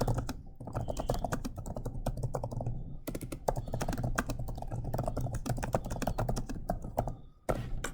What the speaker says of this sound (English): Let's type this.